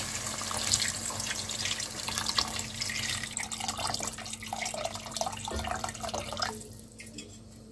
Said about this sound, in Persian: و بعد بهش آب اضافه میکنیم.